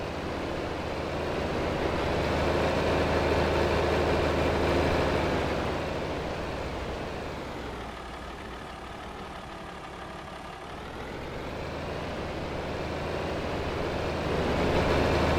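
An old tractor engine in Farming Simulator runs continuously with a steady low rumble, swelling louder, easing off in the middle, then building again, with no talking over it.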